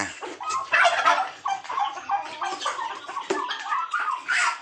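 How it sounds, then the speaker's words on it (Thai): Common domestic turkeys gobble in a noisy, continuous chorus of rapid warbling calls, several birds overlapping close by. "อันนี้ไก่งวงธรรมดานะครับ"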